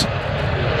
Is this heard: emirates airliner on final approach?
yes